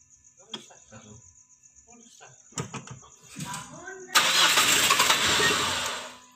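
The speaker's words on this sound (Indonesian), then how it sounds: "kita lanjut untuk hidupkan mesinnya" A 2008 diesel car cranks and fires up after quiet moments of talk and a steady insect-like whine, then settles into a loud, continuous rough engine roar close by.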